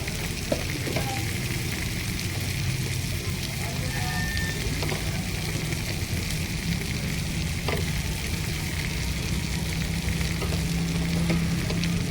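Vegetables and green peas frying in a pan give a steady, close, loud sizzle that runs unbroken for the whole stretch, with faint scrapes of stirring now and then.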